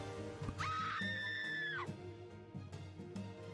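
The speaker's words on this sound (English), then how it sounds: "That was a good scream." A video game character lets out a loud, drawn-out scream lasting about a second, rising sharply and then cutting off, over a steady background hum and faint murmuring of people outside.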